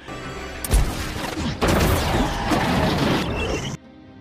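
A loud burst followed by a sustained, dense barrage of film gunfire at an approaching convoy and crashing impacts that cuts off abruptly into quiet.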